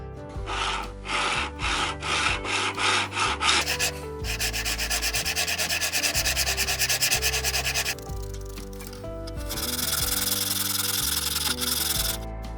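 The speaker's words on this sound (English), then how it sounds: "turn the knife until the entire width of the knife fits on the sharpening block" A knife blade is rubbed back and forth on a sharpening block, held so its full width lies on the stone: loud, close, steady rhythmic strokes, some short and some long and continuous, with no talking.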